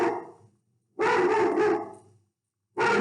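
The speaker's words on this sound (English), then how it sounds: "And the dogs are barking." Dogs bark outdoors in a few short bursts, a fading bark followed by a sustained volley and another starting at the end, loud and fairly close with silent gaps between.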